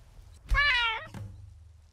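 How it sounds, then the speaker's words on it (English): A cat in Skyrim gives a single clear, close meow that rises and falls, followed by a soft thunk, with no voices over it. "Aw, what a cute kitty cat."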